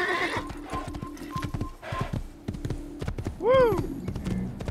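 A horse in the Assassin's Creed video game gallops with rapid, rhythmic hoof clip-clops, and a loud whinny rises near the end, while a person talks over it.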